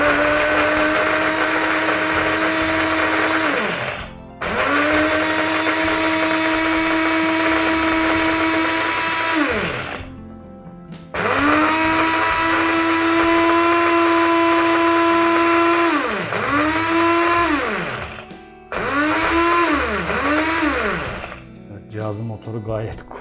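A Musullu MSL 1003 coffee and spice grinder grinds black pepper in loud, steady motor bursts, a high whine with a little pitch sag as each run slows, stopping briefly three times before a final short run.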